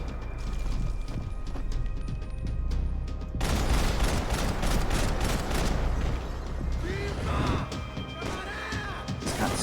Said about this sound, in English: I like how good Max controls the recoil on a Glock 18